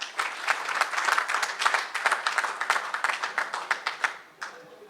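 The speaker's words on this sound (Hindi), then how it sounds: "उनके लिए बहुत सारी तालियां होनी चाहिए" An audience at a reunion of Pakistani professionals applauds in a dense, steady wave of clapping that thins into scattered claps before fading out.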